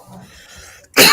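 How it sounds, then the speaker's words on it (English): A single loud, harsh cough bursts out at close range right at the end, after a near-silent moment. "coughing so much? I wonder what it is."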